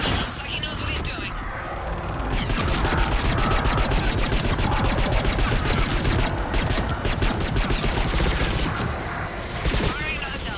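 Missile salvo firing in Mass Effect 3, a long volley of rapid launch bursts and mechanical clatter over combat noise, with voices talking over it.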